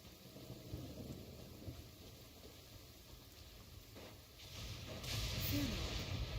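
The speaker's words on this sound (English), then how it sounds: "What's a little thunder when even lightning wouldn't dare strike our path?" Rain and thunder in a video game: faint, steady rain hiss with a low, soft thunder rumble that swells toward the end, quiet and with no clear speech.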